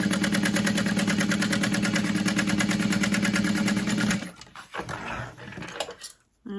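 A sewing machine stitches a fabric tote bag, a fast, steady mechanical whir held for about four seconds before stopping, followed by quieter handling clatter and rustle.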